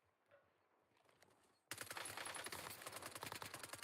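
Rapid automatic gunfire from a shooter video game erupts suddenly after a quieter stretch, continuing as a loud, dense burst of shots to the end.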